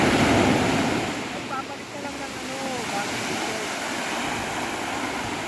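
Ocean waves wash onto Karokwan Beach in Cagayan Valley, a steady rushing surf louder at first then settling into a constant roar with wind buffeting the microphone; faint voices drift in the background.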